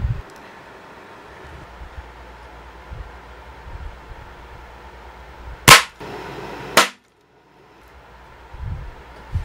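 Two sharp, loud shots from a Crosman 362 air rifle firing hollow point pellets over a chronograph, about a second apart, standing out against a steady low background hiss.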